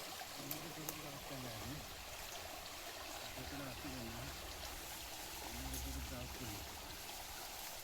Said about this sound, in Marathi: पाणी जास्त आहे ना, वाहता पाणी बघ ना काय